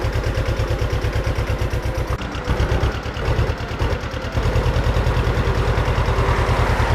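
A mid-sized tractor engine idles steadily with a rapid, even chugging rhythm, loud and close, briefly dipping in the middle before settling back.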